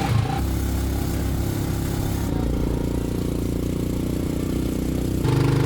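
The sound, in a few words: motorbike sidecar engine struggling uphill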